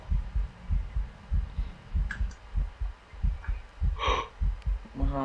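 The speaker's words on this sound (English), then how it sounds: "My heartbeat just went." A steady heartbeat effect from a multiplayer horror video game pulses in a regular double-thump rhythm, loud and close, with a brief higher-pitched tone and a short breathy sound near the end.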